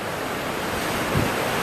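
Ocean waves washing in with wind blowing across them, a steady broad rush with a slightly stronger surge near the end, close and fairly loud with no talking.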